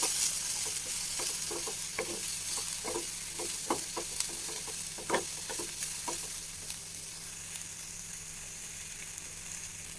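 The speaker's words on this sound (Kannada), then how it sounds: "ಇದಿಷ್ಟನ್ನು ಹಾಕಿ ಮತ್ತೆ ಒಂದು ಐದು ನಿಮಿಷ ನೀಟಾಗಿ ಫ್ರೈ ಮಾಡ್ಕೊತೀನಿ" Chopped vegetables with dill leaves frying in a pan, a steady broad sizzle under repeated sharp scraping taps of a spatula stirring them, close and continuous with no talking.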